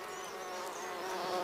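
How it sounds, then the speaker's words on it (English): Mapani and African honeybees buzzing around a flower while searching for nectar and pollen, a steady close drone of wings that keeps up throughout with a few brief swells as individual bees pass near. "Mapani and African honeybees frantically search for nectar amongst the bristles, all the while collecting pollen"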